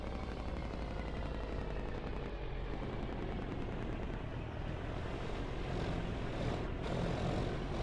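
Steady propeller-driven aircraft engine drone from a flight simulator game, a continuous broadband roar held at an even level throughout with no talking.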